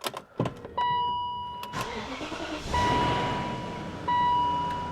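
A 2001 BMW 740iL cranks briefly after a few clicks and catches, then settles into a steady, fairly quiet idle with a faint whine, heard close up with no talking.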